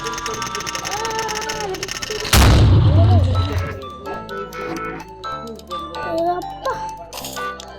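A loud, sharp firecracker burst suddenly cuts through a dense mix of voices and tones, followed by a boomy low rumble, with chatter carrying on afterward.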